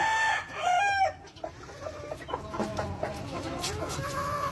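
Sweater Boston gamefowl rooster clucking up close, a loud opening call followed by a run of softer, uneven clucks and short vocal bursts with faint background noise.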